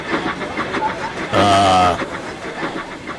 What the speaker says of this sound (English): Can't you see I'm pulling a train, James?